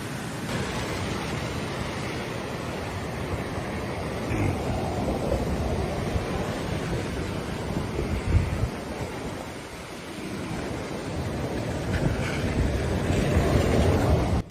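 Muddy Texas floodwater surging over its banks, a steady broad rushing roar with gusty wind buffeting the microphone, swelling slightly in the second half and continuing without voices.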